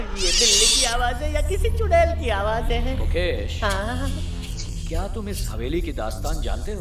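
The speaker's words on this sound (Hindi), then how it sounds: "ये बिल्ली की आवाज है या किसी चुड़ैल की आवाज है?" A cat meows loudly near the start, followed by a person speaking at length in a low, tense voice.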